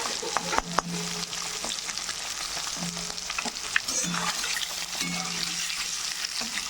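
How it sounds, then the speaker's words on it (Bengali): Duck eggs frying in a pan of hot oil give a steady crackling sizzle with a few sharp pops and light scraping as they are stirred and turned; no one speaks. "এবার আমি ভেজে নেবো, একটু ভাজবে না, সুন্দর করে লাল লাল করে একটু ভেজে নেবো"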